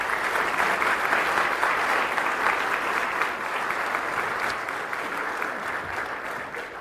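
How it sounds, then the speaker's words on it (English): Sustained audience applause fills a hall at a Moline state of the city address, a steady dense clapping wash that tapers slightly toward the end, with no speech over it. "Let's give them one more round of applause."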